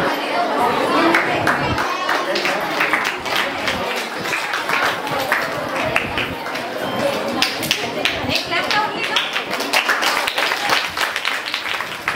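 Audience at a school felicitation ceremony for Pratibha Karanji 2024 breaking into loud sustained clapping, dense and continuous for several seconds with crowd chatter mixed in.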